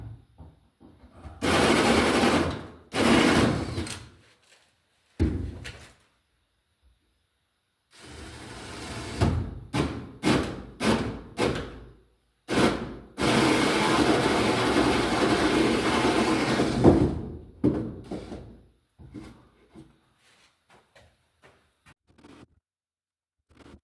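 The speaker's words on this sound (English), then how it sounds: "now I've drilled holes all the way through" A power drill bores holes straight through wooden joists to run electrical cable for a service panel, coming as several loud, grinding bursts of varying length separated by pauses, with no talk.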